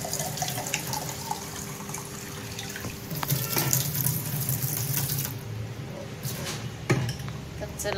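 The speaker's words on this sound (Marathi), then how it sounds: "एक गडवा पाणी घ्यायचं आहे आणि आता मी पाणी घेते नळाचा" Water running from a household tap into a small pot, a continuous close splashing stream with a brief drip and clink near the end.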